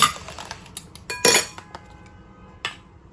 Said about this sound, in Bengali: তার আগে আমি হচ্ছে প্রত্যেকটাতে এই যে চামিচ দিয়ে দিই